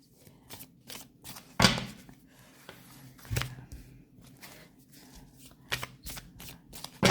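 Tarot cards shuffled and laid out on a table: a few quick riffling bursts and soft slaps of cards set down, close and moderately loud, with no talking.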